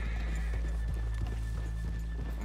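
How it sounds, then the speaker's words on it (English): Horses in the video game Red Dead Redemption 2 whinny while hooves clip-clop steadily over a low, constant rumble, close and continuous, with no talking. "let's leave the horses here off the main drag"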